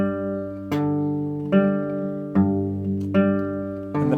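Fingerstyle acoustic guitar chords with the thumb bouncing steadily between two low bass notes, a fresh pluck roughly every 0.8 seconds under ringing upper strings, close and clear with no talking.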